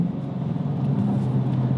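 The engine of an 800 hp Dodge Challenger Hellcat drones in a deep, steady low rumble heard from inside the car, with no clear rev change and no talk.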